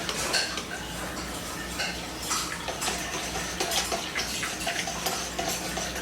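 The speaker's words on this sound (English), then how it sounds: "I'm just going to whisk this together." Peach glaze being whisked together in a bowl, with steady clinking and scraping of a whisk against the dish, close and fairly quiet, with no one speaking.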